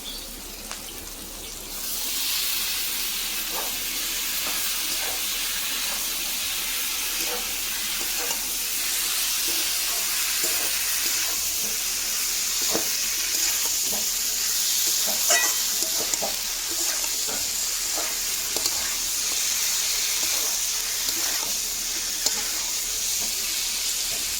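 Potatoes and eggplant frying in lightly spiced oil in a home kitchen, a steady close sizzle running throughout with occasional stirring clinks and scrapes of the spoon.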